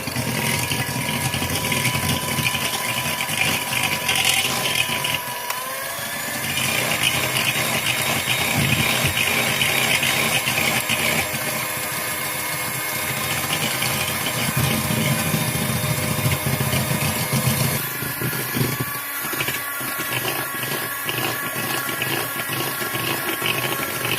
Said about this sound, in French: on commence à monter les jaunes jusqu'à ce que l'appareil double et blanchisse